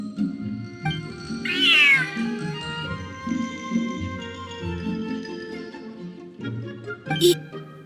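A large cat in Genshin Impact meows loudly, a rising and falling cry near the start, over a soft background game music bed, with a short sharp chirp later.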